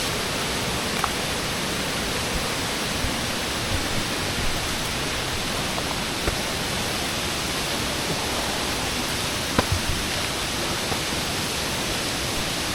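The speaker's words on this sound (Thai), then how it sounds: "ตรงขวามือเนี่ย มันจะเป็นน้ำตก" A waterfall beside a narrow nature trail at Krok E-dok in Thailand gives a steady, dense roar of rushing water, unbroken and fairly loud for the whole stretch.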